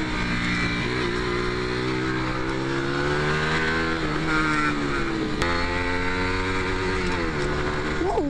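A motorcycle engine on a race track runs hard and close throughout, its steady high-pitched drone holding near the rev limiter with small pitch wobbles and shifts, loud and continuous with no talk.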